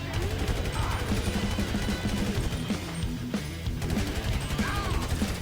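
Dense rapid gunfire in GTA V Online, a continuous barrage of loud close shots and bursts with crashing impacts, steady throughout with no pauses.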